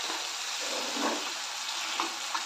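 Onion and tomato sizzle and sauté steadily in a hot pan, with a constant frying hiss and a few soft stirring scrapes, close and alone.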